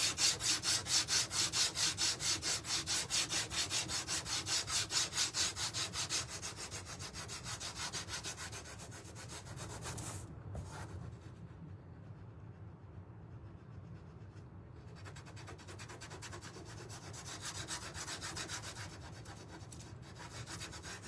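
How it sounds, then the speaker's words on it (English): Hand sanding a painted wooden St Patrick's Day DIY house piece, rapid rhythmic rubbing strokes, close and loud at first, then softer, with a short near-silent pause before the scraping resumes. "We're gonna sand this one."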